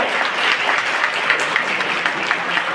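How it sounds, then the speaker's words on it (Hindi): A crowd at a district awards function in Champawat, Uttarakhand, clapping loudly and continuously, the dense applause steady from start to finish with no talk over it. "मैं आप लोगों से विनती करूंगा कि सब एक दूसरे के ताली बजाओ"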